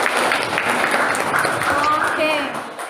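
Students in a classroom give a short burst of applause, dense clapping mixed with crowd murmur and a voice speaking over it.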